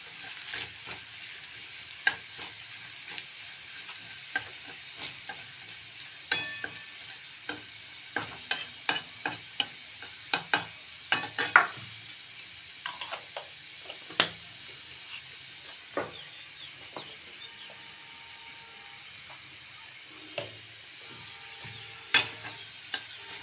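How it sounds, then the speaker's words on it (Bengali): Garlic and chilli frying in a pan, a soft continuous sizzle broken by scattered sharp clicks and scrapes of a spatula, with no voices. "রসুন লঙ্কাটা একটু বেশ ভালোই ভাজতে হবে, তাকে একটু কালো কালো হয়ে গেলে"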